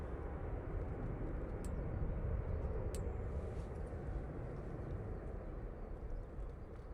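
Turkish Airlines airliner at Manchester Airport, a steady broad roar of jet engine noise held at even loudness throughout, moderately distant, with no talk over it.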